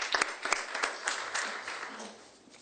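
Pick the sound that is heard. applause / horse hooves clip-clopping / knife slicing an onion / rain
applause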